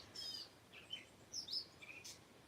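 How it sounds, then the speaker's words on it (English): Birds chirp up in the trees outdoors, several short, high tweets scattered across a quiet, faint and somewhat distant backdrop, with no talking. "I hear some pretty birds."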